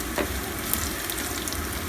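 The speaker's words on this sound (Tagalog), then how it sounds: "ako muna yung maghahalo ng sibuyas tsaka ng bawang" Onion and garlic sauté in a hot pan with a steady close sizzle and occasional stirring scrapes, no voices.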